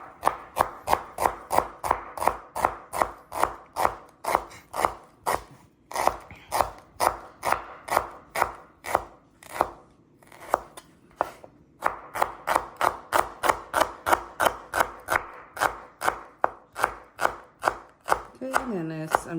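A knife slices shallots on a cutting board in quick, steady rhythmic taps, close and crisp, with a brief pause in the middle before the chopping resumes at the same pace.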